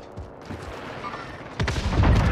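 Heavy gunfire and a bazooka impact in a competitive shooter video game match, with dense bursts of shots building to a loud, booming blast near the end.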